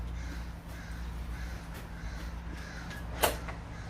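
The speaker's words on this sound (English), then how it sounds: "Listen to those crows." Crows caw outdoors in a residential neighborhood, a few harsh calls at moderate distance over steady low background hum, with one louder, sharper caw standing out near the end.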